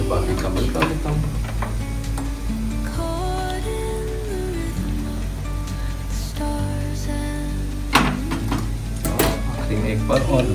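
Spoon stirring sugar into a little milk in a kitchen while poha is being made, a steady soft scraping swirl over frying sizzle, with a few clinks near the end.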